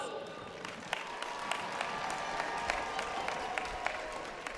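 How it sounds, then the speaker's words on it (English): Applause from a high school commencement audience for graduating scholars, a steady wash of many hands with scattered sharper claps, moderately distant and fairly quiet throughout. "Let's give a round of applause to these brilliant scholars"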